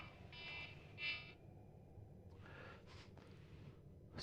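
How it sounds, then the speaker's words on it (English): A phone alarm goes off during a Rust game stream with short electronic beeps at moderate volume, followed by a few softer tones over low background noise. "Oh, that's my alarm."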